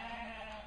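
A sheep bleats during a weighing session on a farm, one steady, loud and close call that fills the short moment.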